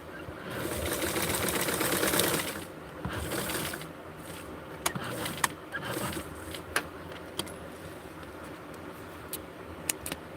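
A sewing machine runs briefly at the start, stitching fabric together on a beginner sewing project, then gives way to scattered light clicks and taps of handling at close range.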